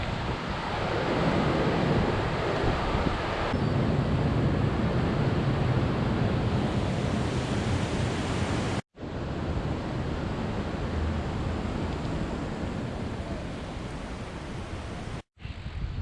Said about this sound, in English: here are the rapids of Columbus, Georgia